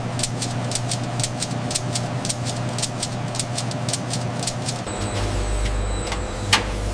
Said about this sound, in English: The packaging machines work at a speed the human eye can barely keep up with.